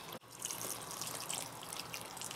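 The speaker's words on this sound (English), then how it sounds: "Water the plants." A watering can pours onto cucumber plants growing in containers, giving a steady close trickle and splash that starts after a brief knock and continues evenly to the end.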